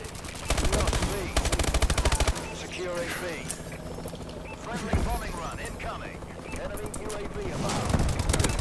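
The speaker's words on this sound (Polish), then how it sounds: "Gdzieś strzela, no, ale skąd on strzela?" Rapid automatic gunfire in a video game with a grenade launcher, bursts of fast close shots followed by scattered shots and game effects, with people talking over it throughout.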